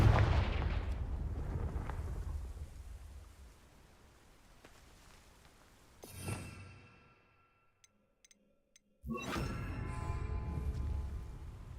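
Confringo fire-spell blasts in Hogwarts Legacy on Xbox Series X, a loud burst opening into a long rumbling decay, a sharp whooshing hit midway, a near-silent gap, then another heavy explosion; no speech.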